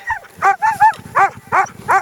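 Several sled dogs in Lapland bark in a quick, uneven series of sharp yelps and barks, close and loud, at the start of an uphill climb.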